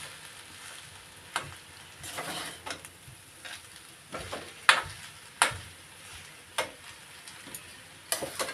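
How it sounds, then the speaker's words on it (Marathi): Spoon scrapes and knocks against a pan as Marathi-style masala rice made with leftover rice is stirred and mixed, giving irregular clinks and scraping strokes over a faint background hiss, close and fairly quiet. "आता या भाताला चांगले म्हणजे मिक्स करूया."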